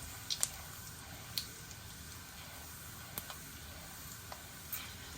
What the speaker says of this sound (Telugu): కొద్దిగా జీలకర్ర కొద్దిగా శనగపప్పు వేగాలండి